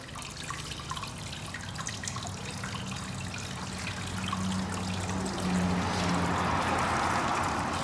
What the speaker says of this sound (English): There's a sprinkler for part of our sparging, so we're going to sparge with a sprinkler.